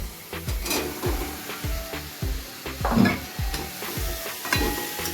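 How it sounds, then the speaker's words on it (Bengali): Fried potatoes tossed with spices in a pan for vegetarian ghugni: a low continuous sizzle broken by regular, rhythmic spatula strokes about twice a second, close and moderately loud, with no voices. "আর আলুটাকে মশলার সাথে একটু ভালো করে ভেজে নেব কষিয়ে নেব দু থেকে তিন মিনিট"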